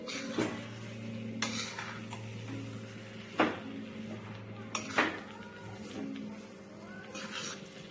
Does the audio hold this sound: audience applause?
no